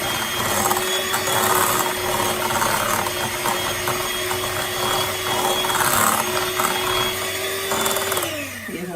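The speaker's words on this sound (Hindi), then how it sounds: "मुझसे उससे नहीं हो रहा तो मैं इसलिए बीटर से कर रहा था" An electric hand beater whirring steadily through cake rusk batter, a loud close motor drone with a rattling, grinding edge that runs unbroken before winding down at the end.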